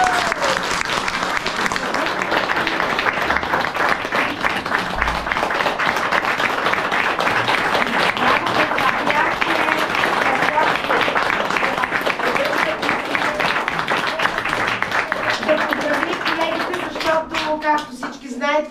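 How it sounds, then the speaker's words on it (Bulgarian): A Bulgarian school audience applauds children at a song and poetry event, with sustained loud clapping from a crowd that continues steadily for many seconds before tapering off near the end. "бяха герои и заслужават нашите аплодисменти."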